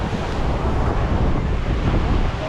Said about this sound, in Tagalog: Ito po yung tubig, oh.